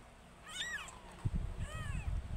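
A two-week-old kitten gives two thin, high meows a moment apart, quiet and close, followed by low rustling and handling noise.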